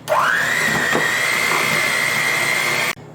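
An electric mixer creams butter and sugar for cake barfi, a loud close motor whine that rises as it spins up and holds steady for about three seconds before cutting off abruptly.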